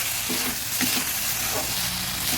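Onion greens and puti fish are stirred in a frying pan, with a continuous loud sizzle over brief scraping strokes of the spatula, close and without speech.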